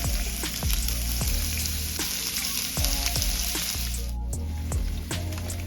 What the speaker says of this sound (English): lay my salmon in the pan and let it cook for about 4 minutes, maybe 4 to 5 minutes